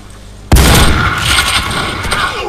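Gunfire in the Warface first-person shooter game: a sudden loud burst of shots erupts and rolls into a sustained booming rattle, close and dominant.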